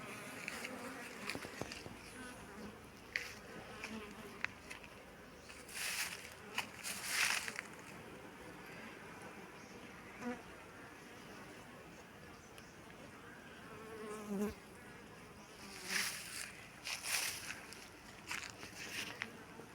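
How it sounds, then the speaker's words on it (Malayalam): Honeybees buzz steadily around the open frames of a 13-frame brood chamber and honey super, a dense, continuous hum with louder swells as bees pass close. "അതിനകത്ത് നിന്ന് ഈച്ചകൾ വിരിഞ്ഞിറങ്ങിക്കൊണ്ടിരിക്കുകയാണ്"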